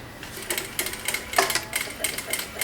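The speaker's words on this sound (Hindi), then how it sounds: "इस कॉर्ड पाइपिंग को बीच में इस तरह से रख के कॉर्ड जो हमने यहाँ सेट किया है अंदर उससे सट के सिलाई चलाना है" A sewing machine stitches cord piping onto a blouse strip in quick, close bursts of rhythmic mechanical clatter.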